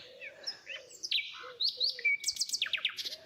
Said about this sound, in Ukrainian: Солов'їний спів неможливо описати, його потрібно почути.